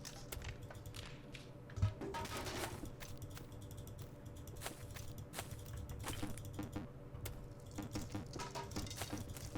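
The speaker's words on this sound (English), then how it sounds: "you may have a lot of mouse clicks to listen to" Sharp computer mouse clicks from PC play of Ranch Simulator, a dense run of quiet, close taps and clicks scattered irregularly over a low background hum, with no speech.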